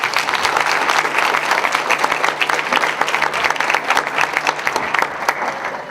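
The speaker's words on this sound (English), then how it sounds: "Please, let's clap for ourselves." Audience applause at an indoor community induction event, a dense, steady wash of many hands clapping close by for six seconds, with no voices rising above it.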